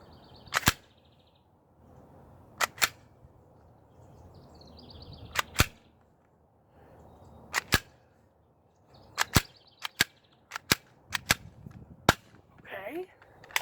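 Plastic pistol fired repeatedly, sharp snapping cracks arriving singly and in quick pairs at uneven intervals, close and crisp against quiet background, with brief soft clicks between shots.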